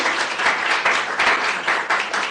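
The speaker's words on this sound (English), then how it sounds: "let's give another round of applause for Ms. Casey," Loud, close applause for a debate speaker at an inter-schools debate during a water week event, a dense continuous patter of many hands throughout.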